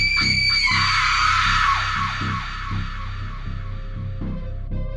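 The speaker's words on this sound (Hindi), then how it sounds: "एक रात अंधेरे के पर्दे में से चीखें सुनाई देने लगीं।" Loud screams ring out in the dark as part of a Hindi horror story, sustained and piercing at first, then breaking into repeated shorter cries over a steady low rumble.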